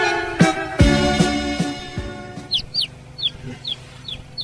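Chickens clucking close by, a few sharp low clucks early on followed by a run of short high chirpy calls repeating in a quick uneven rhythm, with no talk.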